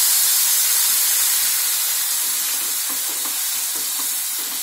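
Poppy seed paste frying in a pan over a low flame gives a steady, close, broadband sizzle and hiss, with faint stirring scrapes, and no talk.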